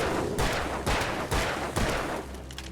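Four sharp gunshots ring out from a firearm in Alan Wake Remastered, evenly spaced about half a second apart, each loud and close with a short decaying tail, followed by quieter game ambience.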